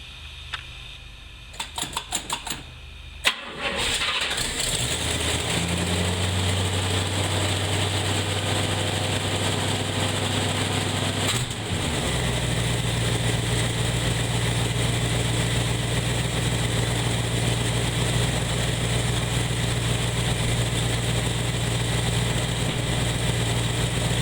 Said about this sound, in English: So let's go ahead and do a cold start.